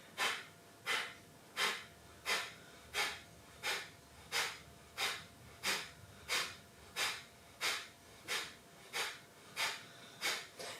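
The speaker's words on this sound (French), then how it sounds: "Et on est parti pour Kapalabhati" Kapalabhati yoga breathing, a steady series of about sixteen forceful, sharp nasal exhalations at an even rhythm of roughly one and a half per second, close and fairly quiet, with no talk.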